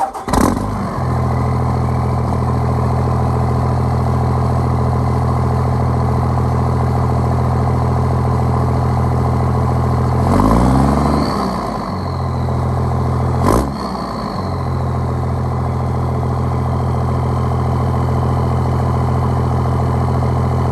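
A 2nd or 3rd generation Cummins diesel pickup idles through an MBRP 5-inch straight pipe exhaust, a steady loud low rumble throughout with two brief revs or bumps midway, no talk.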